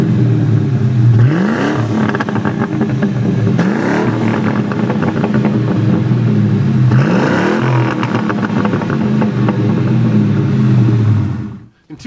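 A 2001 Ford Mustang Bullitt accelerating flat out: a deep, loud engine rumble climbs in pitch through several gears, each shift marked by a brief dip before the rise resumes, then cuts off abruptly at the end.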